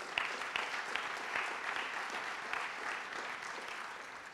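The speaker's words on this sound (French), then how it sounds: "On les applaudit de nouveau." Audience applause at a conference panel on sobriety and a peace economy, a steady wash of clapping from a crowd that holds evenly for several seconds with no talk over it.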